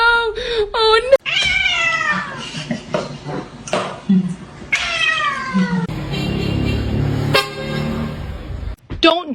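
A cat meows repeatedly in short rising and falling calls, loud and close, mixed with people talking and brief exclamations around it.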